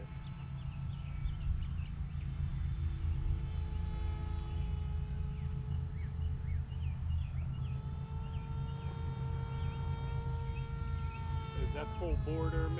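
A small ZOHD Dart 250 RC plane flying at partial throttle gives a steady electric motor whine with shifting tonal pitch over continuous low rumble and wind, with faint voices late on.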